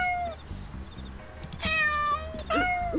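A cat meows in the cat mode of the video game Darkestville Castle, with three clear, fairly loud meows, the last two longer and rising, over soft background music.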